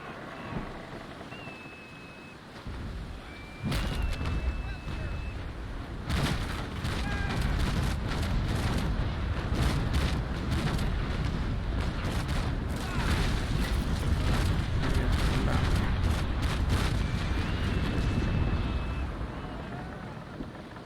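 Cannons of a sailing warship in the naval video game Naval Action fire a broadside: after a quiet lead-in, a long string of heavy booms and cracks rolls on loud and dense over wind and sea ambience before easing off.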